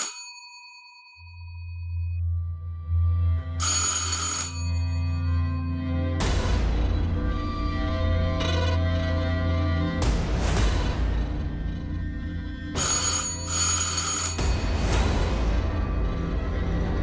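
A phone ringtone plays loudly and steadily, a repeating electronic melody punctuated by bright chiming bursts, with no voices.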